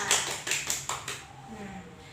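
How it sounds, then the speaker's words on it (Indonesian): Several distinct claps ring out in a classroom, a short rhythmic burst of about five hits that tapers into quiet room sound with a faint voice. "tepuk tangan untuk kita semua"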